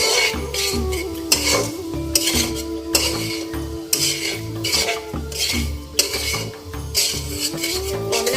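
A metal utensil stirs and fries sugar in a pot for a festival sweet. It scrapes and clinks in a rhythmic, repeated pattern over a low sizzle, close and fairly loud, with no talking.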